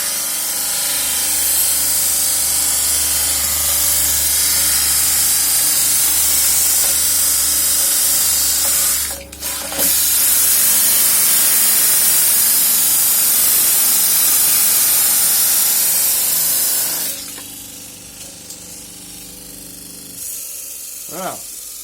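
A homemade disc sander grinds hard against a metal corner, a loud continuous high-pitched abrasive roar that runs almost unbroken, briefly dips once, then cuts off near the end, leaving quieter clatter.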